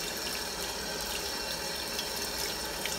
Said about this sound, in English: let's rinse that under the tap